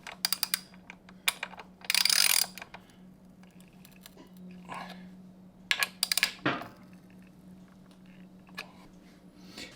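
Ratcheting wrench clicks in short bursts as Vortex rearset bolts are snugged down on a Yamaha R1, set against a low steady hum, with pauses between the bursts.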